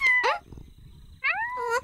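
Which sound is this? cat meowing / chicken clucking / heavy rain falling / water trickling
cat meowing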